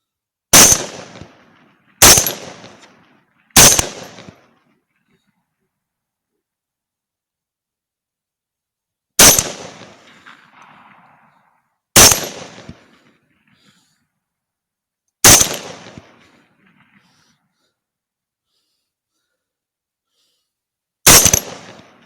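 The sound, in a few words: rifle shots at a hog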